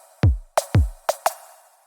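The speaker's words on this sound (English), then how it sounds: "Very simple kick snare, and it goes like this." A simple kick and snare drum beat programmed in FL Studio Mobile: deep booming kicks alternate with sharper snare hits, five strikes in a quick steady pattern, dry and close with no voices.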